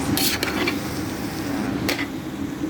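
Beef is stirred and mixed in a pan for bolognese, with scraping and clinking of a utensil against the pan over a steady low sizzle, with two brief bright scrapes standing out.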